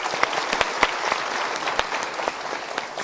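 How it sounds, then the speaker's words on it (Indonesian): Audience applause at a motivational seminar, a dense, steady wash of clapping from a large crowd with sharper individual claps popping out, continuing evenly throughout. "Kita berikan tepuk tangan sekali lagi."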